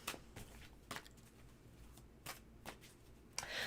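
Tarot cards being shuffled, a series of faint, sharp riffling bursts spaced irregularly against a quiet room, no talking.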